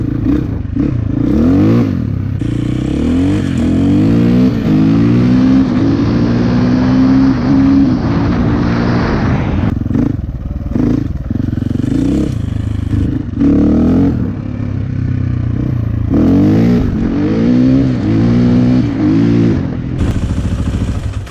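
A KTM 450 EXC dirt bike, brought back after six years sitting and running on a freshly fixed carburetor, idles and revs loudly and close up, its throttle rising and falling in repeated bursts with no talking.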